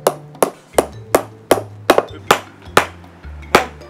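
Hammer repeatedly striking a concrete block encasing an iPhone 11 Pro Max, nine loud sharp blows at an even rhythm about every half second, close up.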